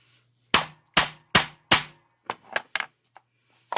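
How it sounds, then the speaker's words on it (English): A hammer strikes a leather punch through belt leather to cut a slot: four sharp, loud, evenly spaced blows, then a quicker series of lighter taps. "I have to punch the slot."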